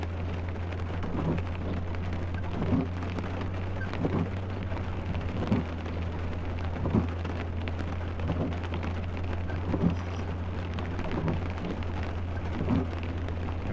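Rain falls steadily in a driving video game's rain simulator, a dense hiss over a low constant hum, with soft thuds about once a second.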